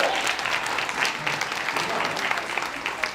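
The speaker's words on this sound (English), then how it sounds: "And give them a round of applause for that." Audience applause at a teacher training session, a dense burst of clapping from a room of people lasting a few seconds, close and fairly loud.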